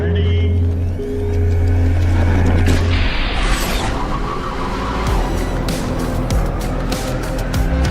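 A Suzuki Swift at the Simola Hillclimb, its engine note rising and falling at close range as it drives up the hill, accompanied by mechanical clatter and a broad roar that continues throughout.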